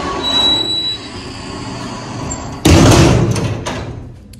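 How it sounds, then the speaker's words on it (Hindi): A door is shut at home with a single loud thud, then its rumble fades over a steady background hum. "मैं कर रहा हूँ पहले दरवाजा बंद"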